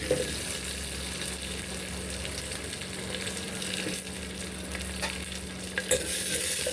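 Dried red chillies and onion frying in a pan for tomato rasam, a continuous close sizzle and crackle with stirring scrapes and an occasional clink, steady throughout with no talk.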